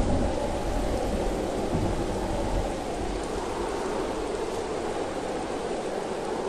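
During Typhoon Kristine in the Philippines, heavy rain pours down in a steady, dense roar, with low rumbles of thunder running beneath it throughout.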